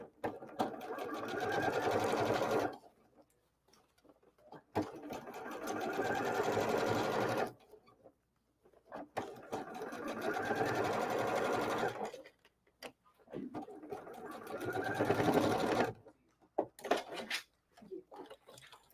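Sewing machine stitching a seam in fabric, running in three or four steady bursts of a few seconds each with short pauses between, close and clear with no talking.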